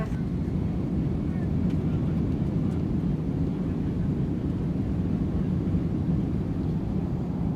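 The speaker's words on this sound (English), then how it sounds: "That's us taken off out of Buenos Aires" British Airways airliner taking off from Buenos Aires, heard from inside the cabin as a constant low engine roar and rumble, steady and fairly loud throughout.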